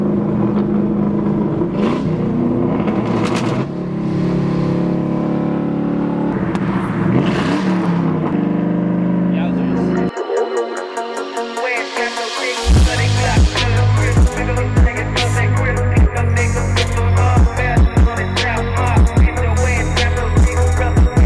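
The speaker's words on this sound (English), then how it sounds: "So the Mustang was too loud." A straight-piped Ford Mustang with no catalytic converters revs loudly through several surging pulls, then settles into a harsh, crackling drive past, close and continuous.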